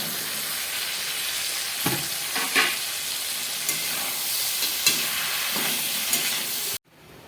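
Pointed gourd added to spiced potatoes frying in a pan sets off a loud, constant sizzle, broken by several spatula scrapes and stirs, before cutting off abruptly at the end.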